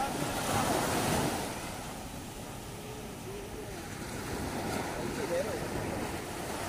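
Sea waves wash and roll in a continuous surge, blended with wind buffeting the microphone, with no one talking.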